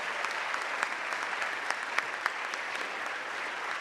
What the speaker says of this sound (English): can we get one final round of applause for all of our prize winners this morning?